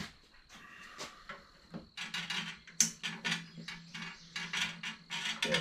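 Bolts being worked off the fender of a 1930s Agees Wolf bicycle, a series of metallic ratcheting clicks, scrapes and clanks close by, irregular and moderately loud.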